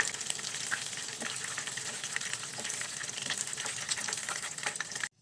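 Pork meatballs frying in oil in a pan, a dense, even crackling sizzle with faint pops, close and steady, cutting off abruptly at the end.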